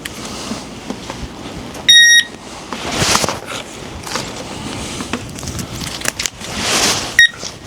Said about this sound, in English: Just going to run the metal detector over it.